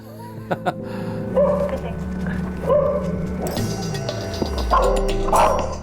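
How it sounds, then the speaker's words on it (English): A guard dog barks in several short bursts over a running vehicle engine and background noise, with a deeper mechanical sweep toward the end. "That's what you want, a good guard dog."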